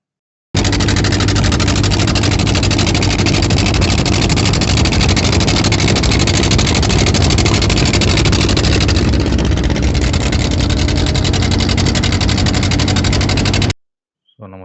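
A steel fishing boat's engine runs steadily and loudly from start to finish, a dense continuous drone that never lets up, with a faint voice buried under it, before cutting off abruptly at the end.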